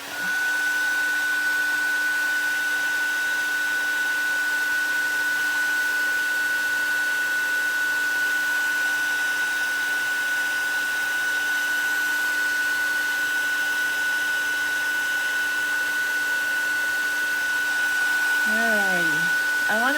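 A heat tool blows on freshly stamped black StazOn pigment ink, making a loud, continuous whirring hum that runs unbroken for the whole stretch.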